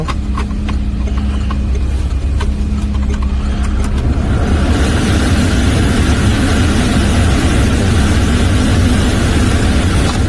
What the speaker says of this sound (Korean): 히타 같은 경우에도 굉장히 따뜻한 바람이 바로 나오네요